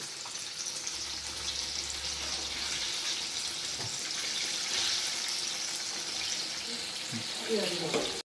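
Banana fritters (Kerala-style pazham pori) sizzle steadily in hot oil, a continuous hissing crackle, with a person talking over it.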